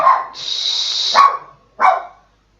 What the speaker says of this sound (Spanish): aquí ladra mi perra. Porque vieron, sintió un ruidito y ladró.